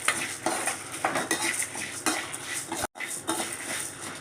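Roasted urad dal, browned in a pan for a pirandai thuvaiyal, is scraped and tipped onto another plate: steady scratchy metal-on-metal scraping and rattling of dry lentils, close and continuous, with one brief pause.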